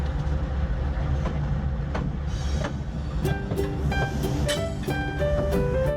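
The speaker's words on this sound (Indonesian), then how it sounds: "Ini ada kereta lokomotif." A toy locomotive train runs with rhythmic rattling clatter. Bright tonal beeps and chimes join in the second half, close and fairly loud.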